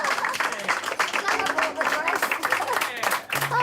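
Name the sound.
audience applause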